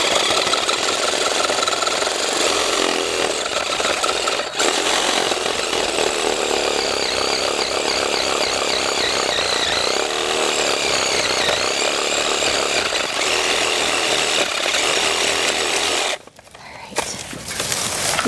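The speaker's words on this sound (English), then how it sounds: "I'm gonna use my Sawzall for this" A Sawzall reciprocating saw cuts through a thick stem of a multi-stem garden shrub during pruning, a loud, steady buzzing drone that runs nearly unbroken for about sixteen seconds before cutting out abruptly near the end.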